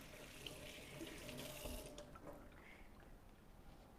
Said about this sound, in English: just rinse my hands off